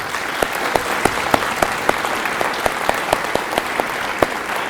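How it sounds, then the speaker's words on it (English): Banquet audience at a Pamlico Community College dinner giving a big round of applause for the event's sponsors, loud steady clapping from many hands with distinct individual claps standing out throughout. "we'd like to give them a big round of applause"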